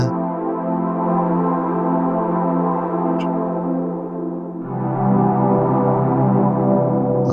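A Waldorf Protein synthesizer plays a sustained pad drenched in heavy reverb, a dense continuous wash that shifts to a new chord partway through, loud and alone.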